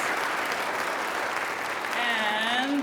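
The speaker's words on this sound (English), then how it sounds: "Let's give them a big round of applause." Dense, sustained applause fills a church hall at a senior choir's patriotic concert, loud and even throughout, before a voice starts speaking over it near the end.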